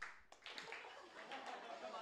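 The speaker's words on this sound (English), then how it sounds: "Clap your hands." An audience claps along at a hip-hop style kickoff event, scattered hand claps heard faintly under steady talking and a voice calling out to the crowd.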